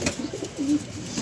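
A pigeon gives a short, soft coo close by, a single low call rising briefly out of faint background noise.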